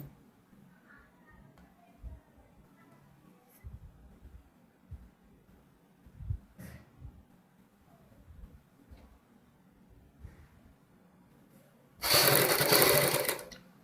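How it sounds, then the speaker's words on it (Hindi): A sewing machine stitches a blouse neckline in one loud, steady burst near the end, after a long stretch of faint handling sounds. "इस प्रकार हमने पूरे गले के ऊपर ये सिलाई लगानी है"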